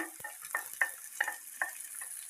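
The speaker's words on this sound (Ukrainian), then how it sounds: "готуємо засмажку" A zasmazhka, a fried dressing, sizzles in a pan with a steady frying hiss and a few sharp spatter pops, close and moderately loud, with no talking.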